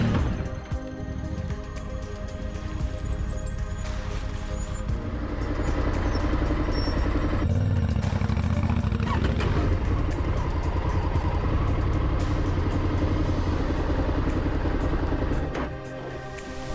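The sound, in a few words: maxi trail motorcycle riding off-road over growing stones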